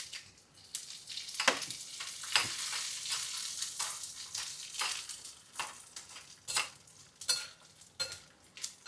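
Urad dal and chillies fry in a pan with a soft, steady sizzle, broken by scraping and stirring clatters as the spoon moves the ingredients around, close and fairly quiet with no talk.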